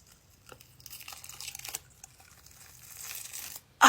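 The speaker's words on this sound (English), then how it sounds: "If I just pull the zipper," Special effects makeup suit being pulled off by its zipper, a close, rising crinkling and tearing rip of material that builds over a few seconds and ends in a sudden loud burst.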